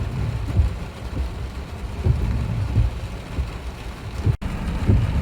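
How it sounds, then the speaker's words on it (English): Heavy rain pouring down steadily in a garden, a dense low rumbling wash of downpour with small gusty swells, continuous and fairly loud throughout with no speech. "I can't even garden in the rain in this downpour."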